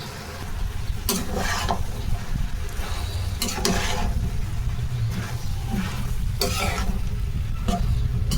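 Winter vegetables and capsicum sizzle in a pan for a vegetable bhaji while a utensil stirs them, the steady frying hiss broken by several scraping, stirring bursts.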